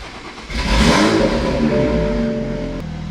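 A finished Toyota Supra fires up for the first time, its engine catching with a jump in loudness and then revving and settling into a steady, close, throaty idle with a brief clatter near the end.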